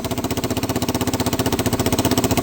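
A Suzuki DRZ400 motorcycle with a bad exhaust leak and a leaking carburettor runs with the choke off, its single-cylinder engine chuffing in a fast, steady pulsing rhythm, loud and close.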